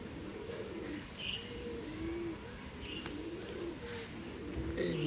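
A Madrasi pigeon coos softly several times in a low, throaty rhythm against a quiet background hiss.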